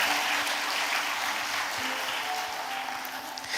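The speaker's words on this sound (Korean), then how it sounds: "다시 한번 크게 박수해 주시면 감사하겠습니다" A church congregation applauds during a retirement and induction thanksgiving service at Yeosu Gwanglim Church, a dense, steady wash of many hands clapping together for several seconds, loud and even throughout with no talk over it.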